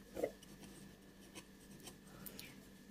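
Pen or chalk writing out a differentiation step in a math lesson, faint scratchy strokes with a slightly louder tap near the start, quiet and close.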